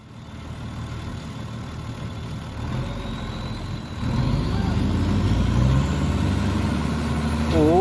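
A Ford 7840 tractor engine idles with a steady low chugging rumble, growing a bit louder midway and continuing evenly to the end.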